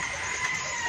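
Backyard chickens kept through a rainy typhoon give a brief, faint cluck against a hissing background.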